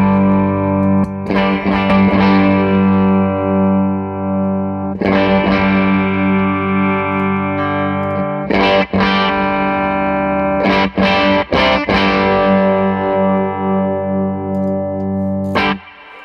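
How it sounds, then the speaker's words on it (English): Thick distorted guitar through a Fuzzrocious Feed Me fuzz pedal, held chords and short bursts ringing out while the tone control is swept, loud and close with no talking. "Let's just sweep the tone control so you can hear what that does for the time being."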